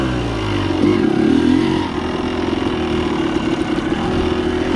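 A dirt bike runs along a tacky dirt trail, its engine droning steadily and loud throughout, with a brief swell of revving early on before settling back to a rough, continuous motor hum.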